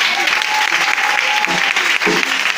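A church congregation applauding and acclaiming the Lord during a service: dense, loud, sustained clapping from a large crowd throughout, with a few voices mixed in beneath.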